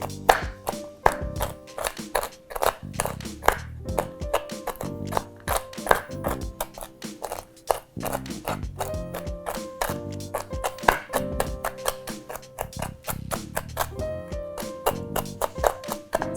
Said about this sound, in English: We're gonna do a rough chop.